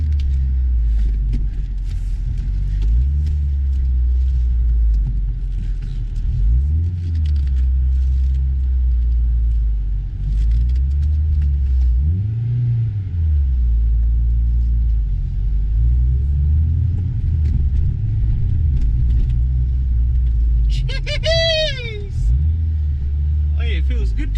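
Old rusty car driving with a steady low engine rumble throughout, loud and close, with brief higher tones near the end.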